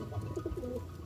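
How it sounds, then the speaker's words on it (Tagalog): Young pigeon squabs call from close by, soft low cooing and squeaky peeps in a short irregular burst, with no talk over them. "So ayan yung mga inakay natin, ayan magandang ibon to, itong inakay."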